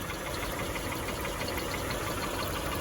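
A 2007 Honda Pilot engine idles steadily and close by, with a constant broadband mechanical drone and a faint rapid ticking running evenly throughout, no voices.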